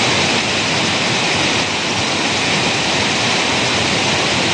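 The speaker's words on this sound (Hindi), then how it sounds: "और ये वाटरफॉल देखो" A waterfall beside a mountain road in Dong Valley, Arunachal Pradesh, gives off a constant, dense rushing roar, loud and unbroken, with no voices.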